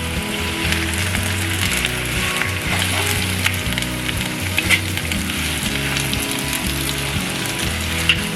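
Beef dropped into hot oil with ginger, garlic and onion sizzles loudly and steadily up close, a dense continuous fry with a low rhythmic mechanical hum running underneath, and no voices.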